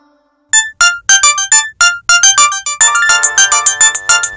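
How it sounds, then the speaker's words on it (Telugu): A mobile phone ringtone plays a bright, melodic electronic tune in a steady run of clear notes, growing fuller and denser partway through, with no talking over it. "మంగ ఎందుకు ఫోన్ చేసింది?"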